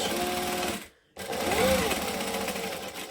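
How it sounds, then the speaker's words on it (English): A sewing machine runs back and forth to back stitch a drawn rectangle, its motor whirring loudly and steadily for about a second, stopping briefly, then resuming a continuous stitching drone with shifting pitch. "So then we're going to stitch, back stitch."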